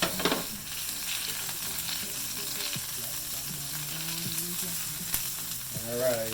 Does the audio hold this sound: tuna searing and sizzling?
yes